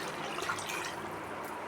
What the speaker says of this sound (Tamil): மிக்ஸி கழுவின தண்ணியும் இதில் ஊற்றிக்கலாங்க